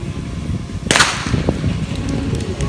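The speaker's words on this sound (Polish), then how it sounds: "wystrzał z pistoletu" A single starting pistol shot cracks out loud at the start of an outdoor running race during a town festival, with crowd noise murmuring before and after.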